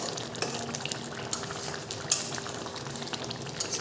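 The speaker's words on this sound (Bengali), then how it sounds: "পাবদা মাছের চচ্চড়ি বসালাম।" Pabda fish curry (chorchori) cooking in a pan on a home stove, with a steady low sizzle and bubbling and a few faint clinks of a utensil, no talking.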